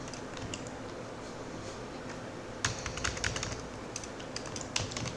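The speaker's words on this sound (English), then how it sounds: "I'm typing" Computer keyboard typing while writing code in Microsoft Visual Studio 2022 on Windows, soft and fairly close, with irregular bursts of key clicks over low room noise.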